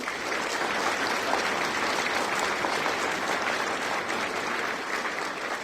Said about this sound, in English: So how about a round of applause for those folks?